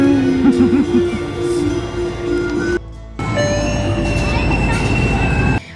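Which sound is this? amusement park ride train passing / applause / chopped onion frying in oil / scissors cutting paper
amusement park ride train passing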